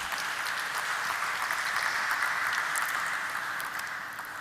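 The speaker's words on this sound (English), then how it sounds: "A big round of applause to each one of them." Applause from the audience at a stock market listing ceremony for Cyient DLM Limited, a steady, even wash of many hands clapping at moderate distance that tapers slightly near the end.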